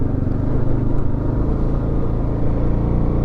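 A 2022 Kawasaki KLR 650 adventure motorcycle ploughing through mud on an off-road trail: a loud, steady single-cylinder engine drone held at constant throttle, close and continuous with a rough low rumble.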